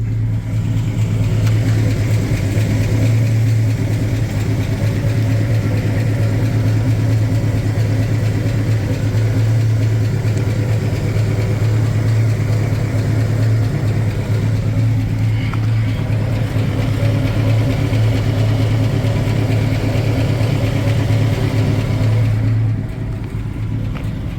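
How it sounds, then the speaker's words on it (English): A 1967 Ford Mustang Fastback GT with a 390 big-block V8, Edelbrock intake and carburetor, idling steadily with a deep, even rumble close by for over twenty seconds. "So here's the 390."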